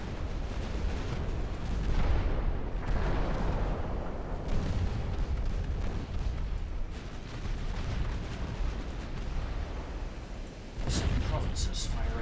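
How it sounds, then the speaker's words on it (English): Naval battle in Ultimate Admiral Dreadnoughts, with heavy rumbling artillery salvos and booming impacts rolling continuously beneath someone talking, plus a sharper burst near the end. "Seven provinces fire at enemy battleships. And for the love of God, armor-piercing rounds."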